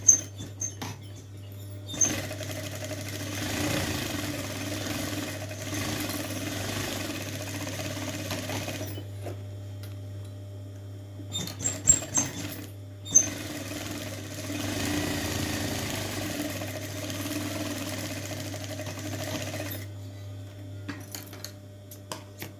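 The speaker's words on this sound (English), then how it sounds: "Join these two edges together with a 1 centimetre seam allowance." A sewing machine runs close by, stitching a 1 cm seam to join two edges of a handbag, with two long steady runs separated by a pause and a few small clicks and handling knocks.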